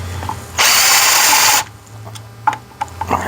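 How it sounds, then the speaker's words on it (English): A power drill whirs loudly in one burst of about a second while driving a T20 screw during a Ford 6.0 diesel FICM repair, followed by a few faint clicks and taps. "Gives you a bad boy screw or drill because the little ones are not going to cut it."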